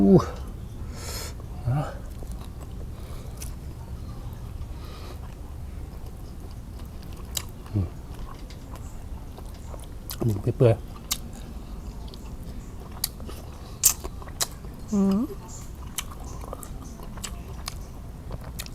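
A fried frog is chewed and bitten with moist crunching and smacking bursts scattered at irregular intervals, close to the mic, with a voice talking between bites.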